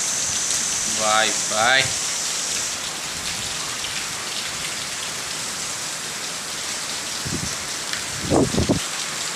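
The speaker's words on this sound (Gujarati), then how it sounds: "આજનો વરસાદ ચાલુ થયો" Steady rain pours down in a village, a continuous hiss of drops on surfaces throughout, with a man's short spoken phrases early on and again near the end.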